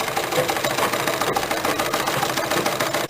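A home sewing machine stitches the dart of a kurti in a steady, continuous mechanical whir, moderately loud and close, with no talking.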